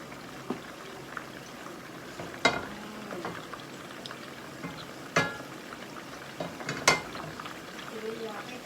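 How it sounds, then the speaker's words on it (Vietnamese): Stuffed squid frying in a hot pan of oil, a steady crackling sizzle with a few sharper pops and spits rising out of the bubbling background. "Con này để mình chiên."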